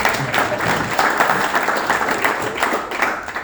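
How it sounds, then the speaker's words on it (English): A conference audience at a startup event claps steadily, dense continuous applause filling the room at a constant, fairly loud level from start to finish. "And I think you should clap for yourselves."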